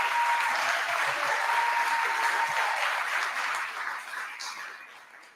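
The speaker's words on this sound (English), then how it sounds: "Let's give them a round of applause again." At a college Black History convocation, an audience applauds a choral performance with a full, steady roar of clapping at moderate level, a faint tone running beneath it, fading away over the last seconds.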